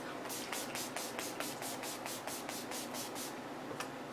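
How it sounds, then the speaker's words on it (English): Urban Decay All Nighter makeup setting spray misted onto a face in about a dozen quick, close hissing pumps in a steady rhythm, then a pause and one final spritz. "using the Urban Decay All Nighter Makeup Setting Spray"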